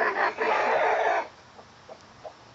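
A hen in a backyard chicken flock clucks loudly and close for just over a second, followed by a few faint, scattered clucks.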